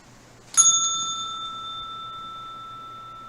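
A single bright bicycle-style bell strike rings out clearly and alone, its tone sustaining and slowly fading for nearly three seconds over faint background hiss.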